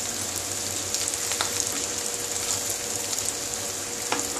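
Fish chops frying in oil, a steady close sizzle with scattered small pops and crackles across the whole stretch, alone without any talk.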